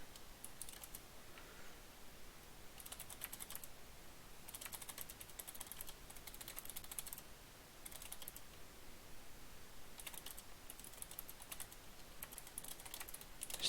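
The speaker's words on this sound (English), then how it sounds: "I hate typing all the time." Rapid clicking keystrokes on a computer keyboard come in irregular bursts with short pauses, quiet and close, with no one talking.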